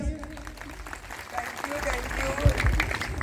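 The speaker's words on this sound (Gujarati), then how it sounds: "કેટલા લોકો એવું કહે છે પિન્ટુ સાહેબ માટે તાળીઓ પ્લીઝ." An audience at a school event applauds continuously, a dense, steady clatter of clapping that swells slightly toward the end, with voices mixed in.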